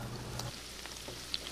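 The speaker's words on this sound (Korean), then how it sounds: "더 바삭한 맛을 내기 위해서 주문 즉시 저희가 바로 튀겨내고 있습니다." Fried food being deep-fried to order in hot oil in a restaurant kitchen, giving a faint, steady crackling sizzle with a few small pops and no talking.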